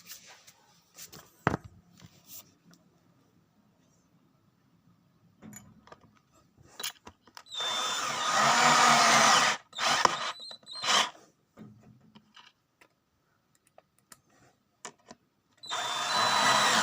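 Power drill driving screws into a cabinet during installation, two loud sustained whirring runs with short gaps, amid scattered clicks and handling knocks.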